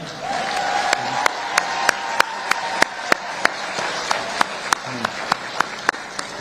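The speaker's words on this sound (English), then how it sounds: "they all deserve a great round of applause" An awards-ceremony crowd applauds teacher honorees, a thick wash of clapping punctuated by one loud, evenly spaced clap near the microphone.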